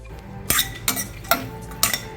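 Metal utensil clinking and scraping against a pan while poppy seeds are stirred quickly as they roast, a few sharp clinks spread irregularly over a steady low background.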